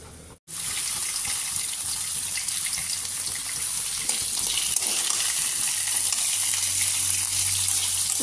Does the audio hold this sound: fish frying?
yes